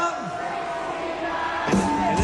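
A Bryan Adams concert audience sings along in a broad, sustained mass of voices that swells slightly toward the end, heard from a distance as a blended crowd sound.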